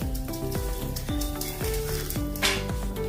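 Chana, dry coriander seeds and dry coconut roasting in a pan, heard as a steady crackling sizzle with repeated scraping strokes of a spoon stirring against the metal.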